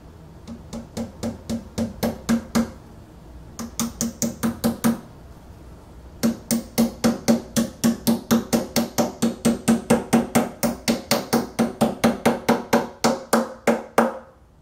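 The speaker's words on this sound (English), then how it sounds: "Now you're going to hammer a foot into one end." Hammer driving a foot into the end of an IKEA Malm high bed leg: dozens of sharp, loud, evenly spaced knocks in fast bursts, pausing twice before a long steady run of blows, no talk.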